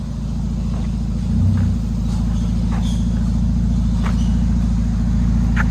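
A 2020 Toyota Tacoma with a 3.5L V6 and an aftermarket exhaust idles close by in a steady, deep, pulsing rumble, with a brief low swell partway through.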